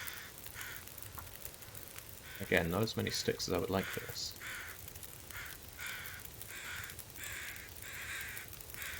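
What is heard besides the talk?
crows cawing in video game The Long Dark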